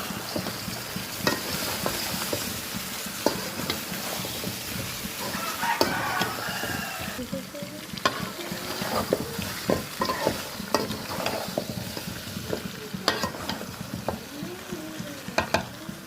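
Duck meat sizzles in a hot pan while a utensil scrapes and stirs in a steady, busy rhythm, with a rooster crowing faintly in the distance.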